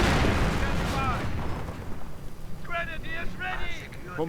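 Self-propelled Hummel heavy artillery firing in a World War II strategy video game, heavy booming blasts and rumble in a busy battle soundscape, with a voice talking over it.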